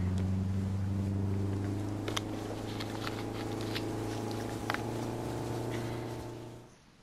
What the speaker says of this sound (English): Nice yacht ride.